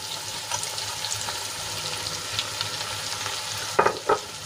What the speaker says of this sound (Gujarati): મસાલો સરસ રીતે કારેલામાં મિક્સ કરી લઈશું